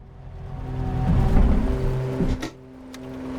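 The piston engines of an Aerostar 600 in Microsoft Flight Simulator 2024 run unevenly as they drone and rise to a peak, then drop off abruptly, with faint clicks afterward.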